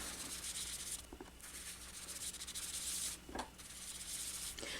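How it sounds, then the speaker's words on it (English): Foam sponge dabbed and rubbed over card stock to work ink outward onto the edges, a steady soft scratchy rubbing with brief louder swipes, close and alone. "That way a lot of the texture of the sponge gets rubbed off onto the outside."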